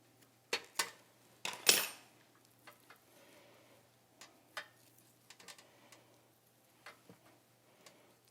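Faint, sparse clicks and taps of a knife and fingers cutting and pulling butcher's strings off a cooked pork loin, with a few sharper scrapes early on and quiet gaps between.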